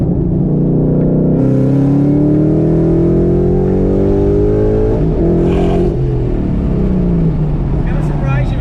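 A 722hp Ford Mustang GT accelerates hard in third gear, its loud engine note climbing steadily in pitch, briefly dipping at a shift and then rising again, close and dominant, with voices talking over it.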